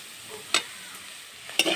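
Bathua (beto) greens frying in a pan while being stirred, with two short bright scraping strokes over a low steady sizzle, fairly close and without talk.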